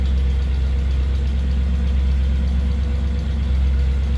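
A 1956 Cadillac Series 62 Coupe idles nearby with a loud, steady low rumble and an even, unbroken throb that holds constant throughout, with no voices over it.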